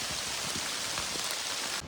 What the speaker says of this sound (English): So obviously it started raining